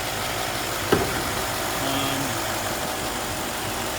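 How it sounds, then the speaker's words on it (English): A 1970 Mercedes-Benz 300SEL 6.3 engine idles with a steady low rumble, joined by a brief click near the start; no one speaks. "The car idles,"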